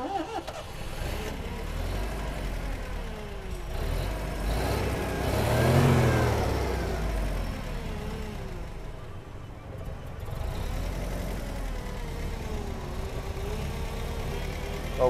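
A Toyota 1.5-ton forklift engine runs steadily, with the pitch rising and falling as the truck drives back and forth. It swells to a louder, nearer peak midway, and a voice speaks briefly over it.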